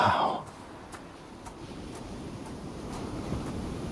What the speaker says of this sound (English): I never grew accustomed to the air up here. It gusts senselessly whichever way it pleases.